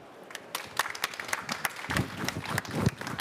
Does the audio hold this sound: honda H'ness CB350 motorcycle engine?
no